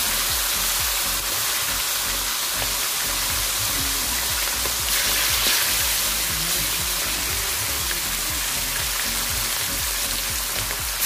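Fish fries in hot oil in a pan before being cooked with oyster sauce, giving a loud, continuous sizzle and crackle with no talking.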